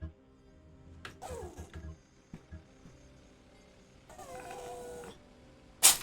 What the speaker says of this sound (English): that was my cat sneezing